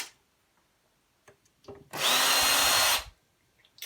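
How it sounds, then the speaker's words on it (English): A power screwdriver whirs in one loud burst of about a second, undoing screws while a Bush DVD player is taken apart for scrap, with a few faint clicks and handling knocks before and after. "The way I have to undo all these screws is to release the board inside."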